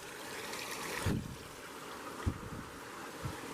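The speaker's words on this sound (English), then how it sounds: "Here's a water source." A woodland stream runs steadily beside a spot with lush moss and ferns in the Idaho forest, a soft continuous wash with a few low thumps and splashes standing out.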